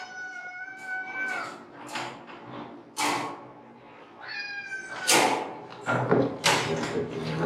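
A cat meows repeatedly in short, rising cries spaced a second or two apart, close and clear, with a few soft thumps between; set during a trial of Meo Kitten cat food.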